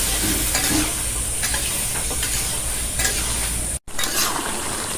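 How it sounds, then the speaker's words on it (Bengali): Taro roots and potatoes are sautéed with shrimp in a pan, producing a close, steady sizzle under repeated spatula scrapes and light clinks, with no speech. "এই কচুমুচিগুলি কষাই নেই"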